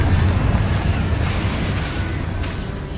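The Confringo fire explosion spell in Hogwarts Legacy erupts into a loud, sustained roaring blast that slowly tapers off over a few seconds, rumbling heavily underneath.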